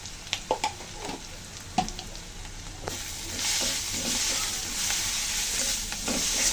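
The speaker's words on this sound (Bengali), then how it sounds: "মশলাগুলো ধীরে ধীরে আমি কষাতে থাকবো।" Ginger paste, cumin paste, chili powder and turmeric stir-fry in a pan. Close spoon scrapes and taps come first, then a loud, continuous sizzle builds and holds to the end, with no voices.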